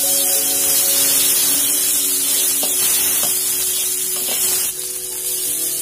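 Chopped tomato, onion and green chilli frying in oil in a pan, a steady loud sizzle with occasional stirring scrapes, continuous throughout with no voices.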